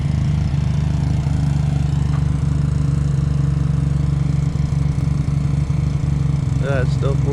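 A vehicle engine idles steadily after a sensor replacement, settling into a smooth, even hum as it warms up. It runs close and continuous throughout, with a faint whine near the end.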